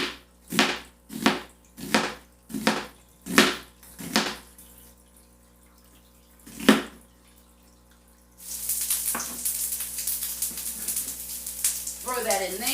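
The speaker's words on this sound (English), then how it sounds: "slice up some onion" Onion sliced with a knife on a cutting board, a run of about eight sharp, evenly spaced chops, fairly close, followed by a steady sizzle of frying in a pan.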